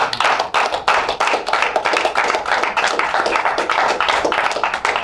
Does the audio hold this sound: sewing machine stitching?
no